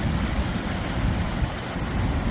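Splash Dam Falls, a small waterfall on a clear creek along the Appalachian Trail, rushes in a dense, steady broadband roar close by, with no voices heard.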